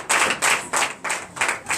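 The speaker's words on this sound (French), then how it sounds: "donnez de vives acclamations à notre Seigneur Jésus" A church congregation at a Sunday worship service in Comè, Benin claps in acclamation, five or six loud bursts of many hands in an uneven rhythm, close and without speech.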